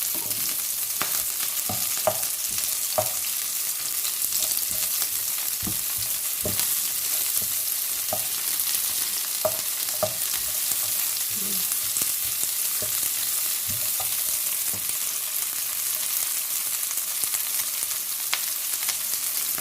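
Red cabbage tossed into a pan with lightly browned onions over high heat for a chicken and vegetable stir-fry, giving a steady close sizzle broken by frequent spatula scrapes and stirring taps.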